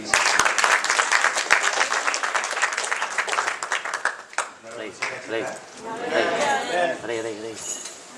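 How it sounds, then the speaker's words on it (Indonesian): Church congregation at a Pentecostal Sunday service claps in a burst of rhythmic applause, strong at first and fading after a few seconds, with a voice speaking over it as the clapping dies down. "Tepuk tangan buat Tuhan kita"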